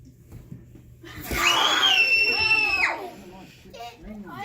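A single loud, high, strained scream or shriek in a children's church setting lasts about a second and a half, with quieter voices and breaths around it.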